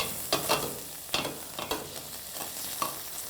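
Chicken mince stirred and frying in a pan, catching slightly at the bottom, with soft sizzling broken by several distinct scraping stirs of a utensil at close range, no talk.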